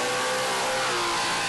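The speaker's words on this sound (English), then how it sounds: "Got the revs right up there." A burnout car's engine screams at high revs, held hard against the rev limiter at a Summernats Burnout Masters event in Western Australia, a steady strained roar heard from a distance.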